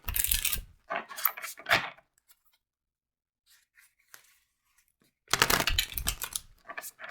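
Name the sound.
shuffling oracle cards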